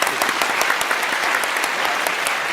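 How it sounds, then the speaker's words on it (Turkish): A studio audience on a competition show gives a contestant a round of applause, with dense, steady clapping from many hands close by and no talk over it. "O zaman Berk Bey'i bir alkışlayalım."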